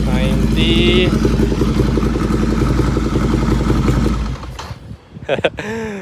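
A loud, steady exhaust roar from a motorcycle with the dB killer taken out, either a BMW S1000XR or a Ducati Scrambler 800, held near 3,000 RPM before cutting off sharply, with a voice speaking briefly afterward.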